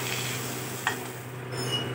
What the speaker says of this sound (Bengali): তেল আমার গরম হয়ে গেছে, আমি একে একে মাছগুলো সব হলুদ লবণ মাখিয়ে ভেজে নেব